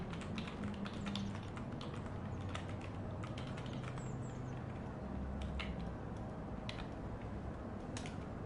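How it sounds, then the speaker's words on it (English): Fast, light tapping on a computer keyboard, with dense irregular clicks close by and fairly quiet, continuing steadily throughout without talking. "I'm good at typing on a keyboard"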